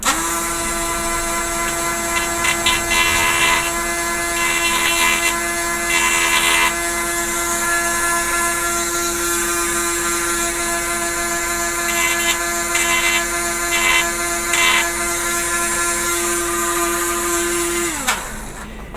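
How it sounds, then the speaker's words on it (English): A small high-pitched drill whines steadily for several seconds while drilling down plastic model starship parts, with brief grinding bursts as it bites, then spins down and stops. "I've just started drilling them down just a little bit."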